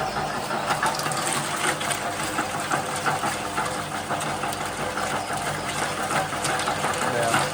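An electric meat mincing machine, powered from a 10 amp breaker, runs with a steady mechanical whir and faint knocking, continuous and fairly quiet throughout.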